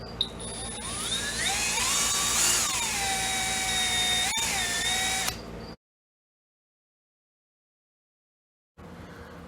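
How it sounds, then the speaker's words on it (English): A loud, high-pitched drill whines steadily, its pitch dipping and rising as it bites into a modified AK47 gas piston, then cuts off abruptly before a brief resumption. "Now we're just going to drill through the new piston that we just modified"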